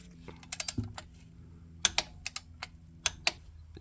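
Clicks and ratcheting from a torque wrench tightening the transmission oil strainer bolts on a BMW E9X M3, sharp irregular ticks close up with quiet gaps between them.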